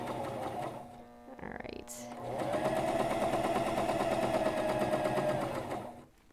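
A Janome CoverPro 1000CPX coverstitch machine stitches fabric with a fast, steady mechanical whir lasting several seconds, loud and close, after a brief spoken word and a short handling clunk.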